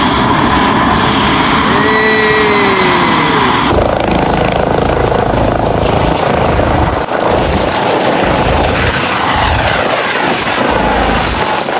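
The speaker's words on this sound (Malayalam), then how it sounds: "ഫുള്ള് സറൗണ്ടിങ്സ് ചെക്ക് ചെയ്തിട്ടാണ് അവന്മാർ ഹെലികോപ്റ്റർ പിന്നെ സ്റ്റാർട്ട് ചെയ്യാൻ പോണത്" A rescue helicopter starts up close by in Berlin, loud throughout: a rising whine at first, then a dense, constant turbine and rotor roar.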